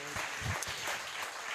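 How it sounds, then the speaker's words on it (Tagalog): A church congregation gives a brief, moderately loud round of clapping, a short burst of applause lasting under two seconds. "pabigyan natin ng malakas sa palakpak si Lord"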